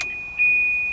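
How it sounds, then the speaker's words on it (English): A Volvo 240 wagon sounds its door-open warning chime, a thin steady electronic tone with two soft pulses, close by in a quiet car. "Annoying door dinger"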